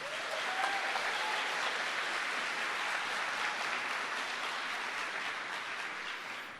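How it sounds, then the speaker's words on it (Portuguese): A church congregation applauds in a steady, dense wash of clapping that holds at an even, fairly loud level for the whole stretch and tapers only slightly at the end. "Quem está me ouvindo pode aplaudir."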